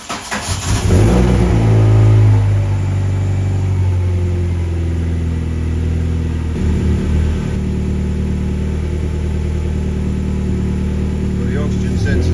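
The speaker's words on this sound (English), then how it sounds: "So let's start the engine." A car engine with a C20XE motor cranks and catches, revs up briefly, then settles into a steady idle hum that keeps running.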